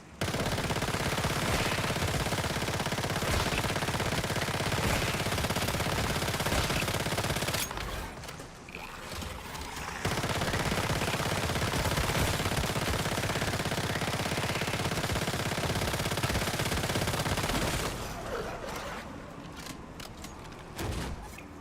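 Sustained gunfire from the Once Human video game, rapid automatic bursts running loud and dense with two short pauses, likely reloads, before the shooting resumes and then trails off near the end.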